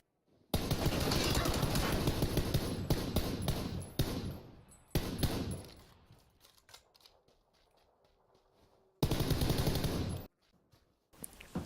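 Fully automatic M416 assault rifle fire in the video game PUBG, with long, dense bursts of rapid shots, a quieter stretch of fewer, scattered shots, then another loud sustained burst.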